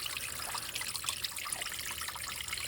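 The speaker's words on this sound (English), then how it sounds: "I really like seeing how the water just drops like this." Spring water drops and trickles over rocks in a steady, fairly faint splashing babble outdoors, continuous with no talking.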